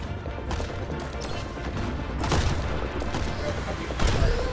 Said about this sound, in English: I'm getting shot by 5 people.